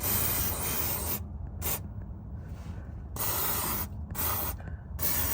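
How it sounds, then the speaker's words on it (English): Several hissing bursts of aerosol lubricant sprayed around a rear suspension boot on a 2006 Toyota RAV4, close up, separated by brief pauses with faint background hum. "we're just gonna spray it liberally around where the blue inner boot is"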